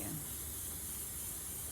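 An aerosol spray paint can releasing blossom white paint onto a DIY ginger jar gives a continuous, close hiss that runs unbroken from start to finish and stays loud and steady.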